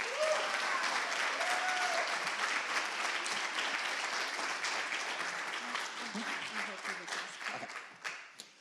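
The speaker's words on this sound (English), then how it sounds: "Big round of applause." Audience at a Poetry Out Loud 2024 school competition claps in a long, full round of applause, loud and steady at first and gradually thinning toward the end, with a voice briefly heard at the start.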